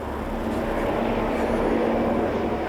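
A helicopter tries to land at Skerryvore Lighthouse in winds over 80 km/h, giving a loud, steady roar of engine and wind noise throughout.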